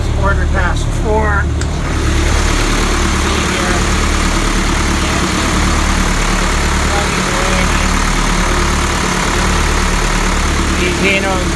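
Hino 135 HP marine diesel engine idling steadily at 1100 RPM down in a boat's cockpit, a continuous low rumble with harmonic drone, loud and close throughout, with a brief voice near the start.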